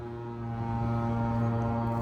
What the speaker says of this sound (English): Sounds like someone is taking out their dirt bike.